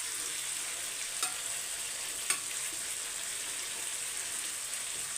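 Prawns fry on a tawa with curry leaves, ginger, garlic, pepper and cumin, giving a steady close rain-like sizzle that holds evenly throughout, with two faint sharp ticks of a spatula.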